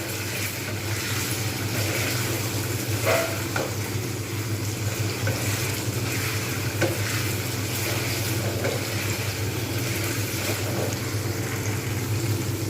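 A steady, dense sizzle of food frying in a pan, with a low hum beneath and a few faint clinks of stirring.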